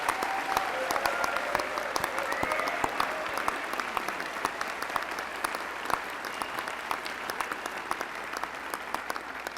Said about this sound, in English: Now, would you help us recognize all these students with a round of applause?